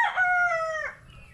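A rooster crows once, loud and close, a single strained cock-a-doodle-doo lasting about a second, then quiet.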